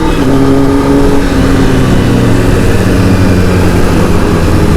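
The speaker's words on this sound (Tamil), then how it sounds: "ஐயோ அந்த வண்டி சவுண்டை பாருங்க." A superbike, a BMW or a Kawasaki ZX10R, revs on a public road with a loud, continuous engine roar that rises and holds without a break.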